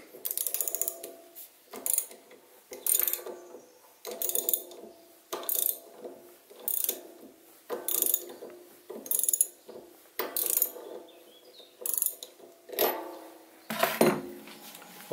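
Ratchet clicks tightening a bolt on the standard of a Stuart 10V model steam engine held in a workshop lathe setup, a dozen evenly spaced bursts of sharp metallic clicking, close and fairly quiet, ending in a firmer final nip.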